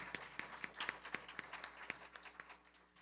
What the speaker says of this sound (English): A big round of applause for Dr. Ravi Shankar Jandyal.